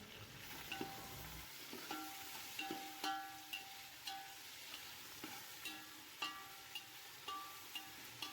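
Onions, mint and green chillies frying in a pan for Kerala fish biryani, a soft sizzle broken by regular clinks and scrapes of a spoon stirring, fairly faint and close.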